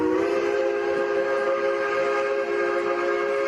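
Steam locomotive whistle from Georgetown Loop Railroad number 40, a sustained multi-tone chime held steadily for the whole stretch, loud and close with no break.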